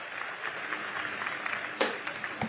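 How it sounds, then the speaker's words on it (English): An audience claps for Liam, a brave question-asker, in a moderate, somewhat thin round of applause with a few louder nearby claps and faint crowd murmur underneath. "Give Liam a round of applause, folks"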